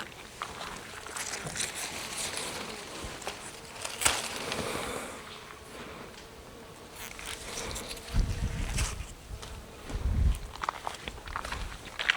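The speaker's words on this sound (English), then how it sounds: "So many insects" Insects buzz faintly and continuously around a flower garden on a farmstead, a soft steady drone with a few louder low passes near the end, no voices.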